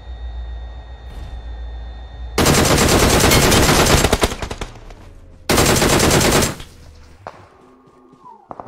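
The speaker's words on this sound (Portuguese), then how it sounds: "Tomando tiro aqui da esquerda, mano." Automatic gunfire from PUBG Mobile, two loud sustained bursts of rapid shots, each lasting one to two seconds, with a quieter pause between them and faint game ambience before and after.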